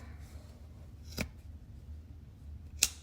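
Two quiet snips of scissors cutting crochet yarn strands, spaced apart against a low background hum, close and faint.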